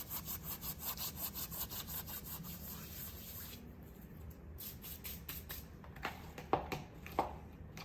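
Dried oregano crumbled by hand for Zacatecas-style enchiladas, heard as a steady dry rubbing and rustling that continues for several seconds, then breaks into a few separate crisp crackles near the end.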